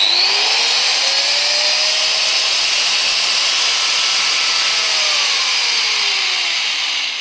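A GTM AG125/1400VS angle grinder runs alone at speed setting 6, a loud, steady high-pitched whine with sustained bright harmonics that holds constant for several seconds.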